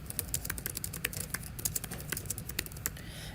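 Quick, uneven keystrokes on a keyboard used with an iPad to type a paper in Word, a close run of light clicks and taps with no talking.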